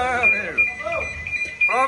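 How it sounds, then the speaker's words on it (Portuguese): An alarm sounds at a car meet's Saturday chicken-rice and barbecue gathering, a steady high electronic tone running throughout with a loud burst near the end, under people talking nearby. "Ziga esse alarme aí, pelo amor de Deus."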